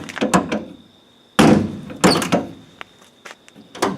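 A rusty car door on a high-mileage vehicle is worked open, giving a series of loud clunks, scrapes and knocks close by, separated by brief quiet gaps.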